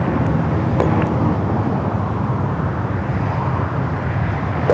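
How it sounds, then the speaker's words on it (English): An Air Canada Airbus A220-300 arrives at LAX from Vancouver, a steady broadband roar of jet engines held at a constant level for several seconds, fairly loud and fairly distant, with no speech. "Next arrival here on the north side, Air Canada, flight 556, coming from Vancouver, Airbus A220-300."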